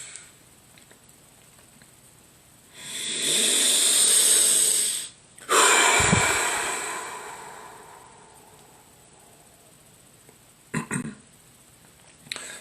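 Long, deep breaths during a heart chakra breathing exercise: a slow, loud, airy inhale and exhale close to the microphone, then quieter breathing with a brief swallow near the end.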